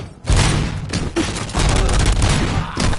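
Heavy gunfire in Robocop: Rogue City, loud booming volleys of shots in clustered bursts separated by short gaps, close and dense, with no talking.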